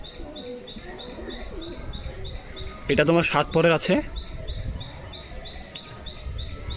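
A crested pigeon coos in soft, repeated low calls over a background of chirping birds and faint insect buzz, while someone talks briefly in the middle.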